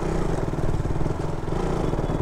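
A KTM motorcycle ridden at modest speed gives a steady, continuous engine drone with a low rumble and mid-range clatter, close and constant throughout, with no talk.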